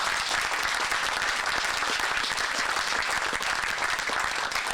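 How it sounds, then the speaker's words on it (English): An audience at an interview event applauds, a dense, even wash of many hands clapping that stays loud and steady from start to finish without a break. "yes, please applaud that."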